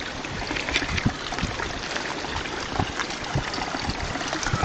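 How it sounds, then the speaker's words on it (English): Water trickles steadily along a shallow outdoor channel with watercress in Southchurch Hall Park, a close, continuous babbling with small splashes and no speech. "I like to hear the sound of water."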